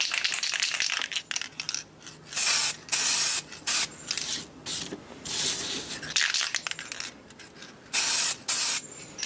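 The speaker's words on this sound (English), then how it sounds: "I'm going to really try and focus the spray down this metal" Short hissing bursts of spray paint onto a metal section of a chrome RC light bar lens, in quick, uneven pulses with brief pauses between them, close and fairly loud, with faint rattling in the background.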